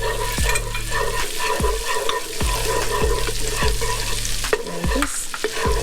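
Garlic and minced ginger frying in a pan while cooking sukiyaki, a steady sizzle broken by repeated sharp scraping stirs about once a second, close and loud throughout.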